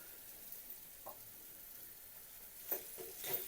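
Boiled potatoes fry with sautéed onion in a pan, a faint steady sizzle with a few soft stirring scrapes rising near the end.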